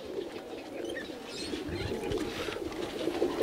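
Highflyer pigeons coo softly inside their loft, low throaty murmurs overlapping in a quiet, continuous stream with faint chirps and rustling.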